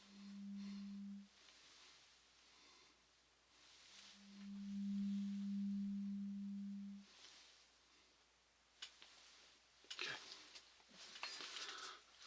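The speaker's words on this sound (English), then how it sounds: "We're going to try the different tones in the different ears." Pure hearing-test tones during a cranial nerve exam play as two steady low beeps, a short one and then a longer one, quiet and close, followed by soft rustling and light handling sounds.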